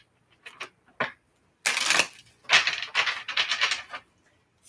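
Tarot cards being shuffled by hand in short bursts: a few quick riffles, then a longer run of dense papery flutters, close and fairly quiet, with no talking.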